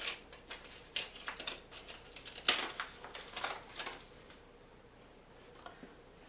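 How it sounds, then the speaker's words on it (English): Soft, close snips and crisp clicks of scissors cutting paper in an irregular series, quiet and without talk, fading to near silence toward the end. "I take my scissors and I'm going to make one cut right down the middle here"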